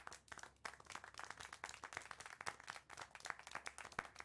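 Clapping from a scene in the video game Syberia The World Before, a quick, uneven run of soft claps lasting several seconds at low level, heard on its own without speech.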